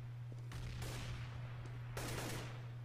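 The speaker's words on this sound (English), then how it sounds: "I throw the flashbang." Two sharp blasts from flashbang grenades in Counter-Strike: Global Offensive, each a sudden crack with a short decaying tail, spaced about a second and a half apart over a low steady hum.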